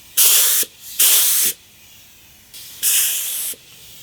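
An HVLP spray gun test-firing in short bursts, four loud airy hisses of about half a second to a second each, separated by brief quiet gaps, close by.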